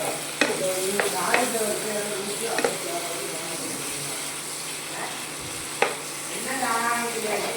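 Mushroom gravy frying in a pan is stirred, with a steady sizzle broken by a few sharp spoon scrapes and clinks against the pan, close and fairly loud.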